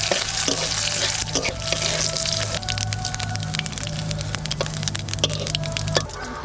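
Dried red chillies and cumin seeds fry in hot oil with dense, close crackling and sharp pops over a low steady sizzle, with no talk.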